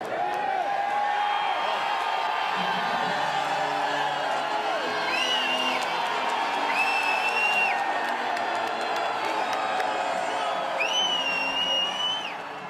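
An audience claps and cheers loudly and steadily, whoops rising over the crowd noise throughout, with a voice speaking over it.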